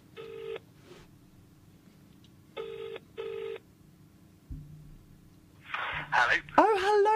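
A telephone call is placed: clear touch-tone dialing beeps in short bursts, then a ringing tone, and finally a voice answers near the end.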